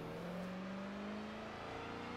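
Ford Mustang drift car engine in Forza 7, a continuous loud revving drone with steady pitch that rises slightly, played through a Fanatec CSL wheel setup, with no voices.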